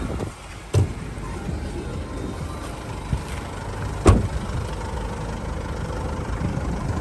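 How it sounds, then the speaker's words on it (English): A 2017 Isuzu D-Max SX 4x2 single-cab ute sits idling with a steady, low engine hum, fairly quiet and constant, broken by a couple of brief knocks or clunks nearby. "I'm just going to let the vehicle run for a little bit"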